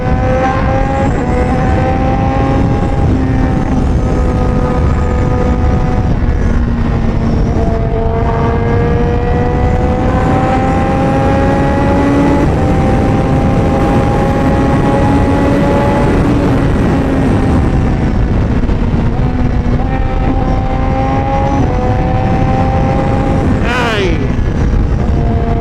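A car fitted with a new exhaust drones steadily and loudly, its engine note rising and falling in pitch as it revs and cruises, with a short sharp sweep near the end.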